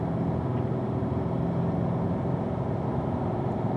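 A car accelerating on a racetrack at a performance driving school, a steady, moderate in-cabin engine drone that holds even and smooth throughout.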